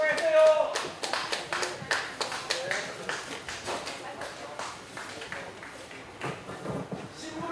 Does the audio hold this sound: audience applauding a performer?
yes